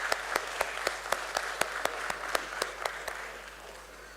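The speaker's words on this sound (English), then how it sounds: "Let's welcome him with an applause." Sparse applause rises at a stock exchange listing ceremony as a guest is welcomed on stage: a dozen sharp, evenly spaced claps over a faint hum, fading toward the end.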